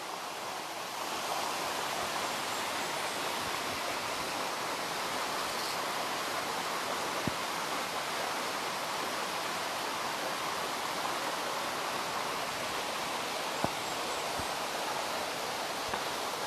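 A small side river rushes over rocks in a wooded spot, a steady, broad wash of flowing water that holds evenly throughout with no voices.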